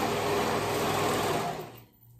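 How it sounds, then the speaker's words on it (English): A sewing machine runs steadily, stitching the raw edges of a knit dress, a close, even mechanical whir that holds for about a second and a half before slowing and stopping. "I'm going to sew those raw edges"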